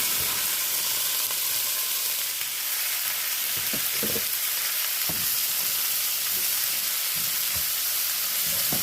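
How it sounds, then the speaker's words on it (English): Bacon crisps in coconut oil in a pan, a dense continuous sizzle with scattered sharper pops and spatters throughout, close by with no talking. "Once our bacon gets nice and crispy"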